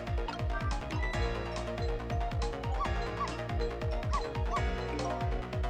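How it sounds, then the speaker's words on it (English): A dog barks in the video game Ghost Trick: Phantom Detective, with short clipped barks repeating in a quick rhythm over steady background music. "That's the dog."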